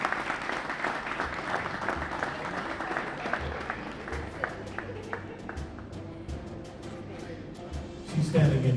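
Audience applause at a community awards ceremony, scattered claps continuing at moderate distance while a voice talks over them, swelling louder near the end.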